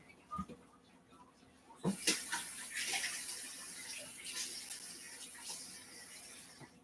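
Water pouring into a pot of albondigas soup as it cooks: a brief clatter, then a steady close splashing stream that runs for several seconds at moderate volume.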